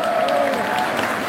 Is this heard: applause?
yes